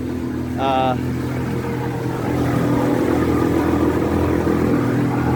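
Restored boat's engine idling at a steady low speed while cruising downriver against a strong current and headwind, a continuous low drone with wind noise throughout and a brief tonal whine near the start.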